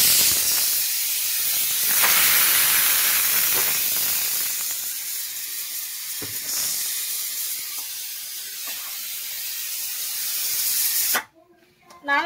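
A pressure cooker cooking mutton whistles with a loud, sustained, close steam hiss that rushes on for about eleven seconds, rising and falling slightly before cutting off abruptly.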